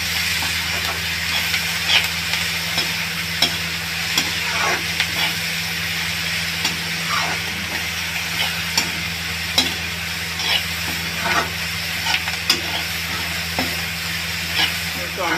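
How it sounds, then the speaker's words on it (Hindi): Momo masala mixture sizzles and roasts in a pan over a low gas flame, with a steady frying hiss and repeated scraping stirs of a spoon, close and loud throughout, with no talking. "ना इसमें पानी डालना है ना कुछ डालना दोस्तों, हमें धीमी गैस पे दोस्तों सेकना है।"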